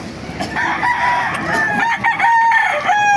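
Roosters at a chicken market in Baliuag crow loudly and close by, with overlapping calls and some clucking filling the full three seconds.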